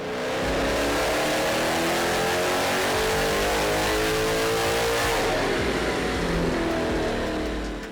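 A 6.4L Hemi fitted with a COMP Cams Stage-2 HRT valvetrain is revved hard on a dyno, giving a loud, sustained engine roar that holds steady and shifts character past the midpoint.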